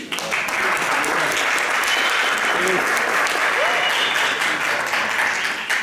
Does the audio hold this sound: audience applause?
yes